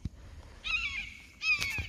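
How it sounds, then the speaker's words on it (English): A bird of prey gives two harsh, drawn-out screeching calls a moment apart, fairly close, over a quiet outdoor background on the Mountains to Sea Trail near Goldsboro. "there's a little bird of prey. Oh, there he goes. Making a lot of noise."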